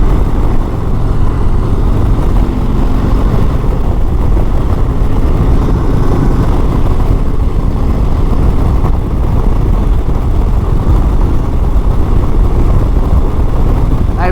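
A 2022 Harley-Davidson Heritage Classic with a 114 cubic-inch engine pulling up to highway speed: loud, steady engine drone mixed with heavy wind rush, constant and close throughout, no talking.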